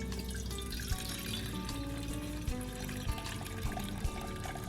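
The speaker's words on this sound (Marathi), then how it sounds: "आणि हाच पाणी घाल थोडं उकळायला" Water poured from a vessel into a cooking pot in a home kitchen while preparing moringa leaf bhagara, a steady close trickle with a few soft knocks of the vessel.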